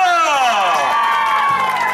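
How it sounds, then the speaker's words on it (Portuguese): A crowd at a birthday celebration cheers and whoops for Pedro, loud overlapping voices shouting together in a sustained burst of close excitement. "Palmas pro Pedro!"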